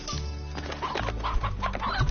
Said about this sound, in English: So my chickens are breeding at least.